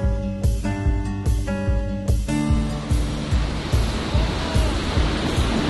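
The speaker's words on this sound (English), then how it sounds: "So relaxing listening to the water of the ocean." Ocean waves wash onto a beach on the California coast near Highway 101 in a steady, hissing surf that fills the clip after a brief tonal sound at the start.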